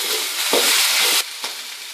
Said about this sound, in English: add the capsicum, which wasn't as hard as the rest of it. And just stir that for a bit longer